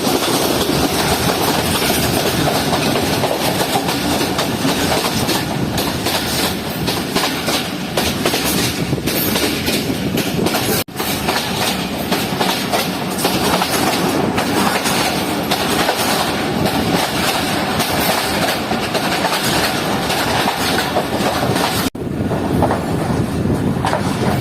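A train runs on rails through Punjab countryside near Narang on the way to Sialkot in the rain. A continuous loud rumble fills the scene, with steady clickety-clack wheel beats and occasional squeals, and no one is speaking.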